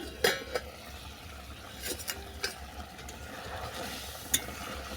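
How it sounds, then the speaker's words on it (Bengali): A metal lid lifted off a pan of simmering watermelon muitha curry, giving a few sharp clinks over a quiet, low bubbling background, with no voices. "আবারও 2 মিনিট পর আমি চাপাটা খুলে নিচ্ছি।"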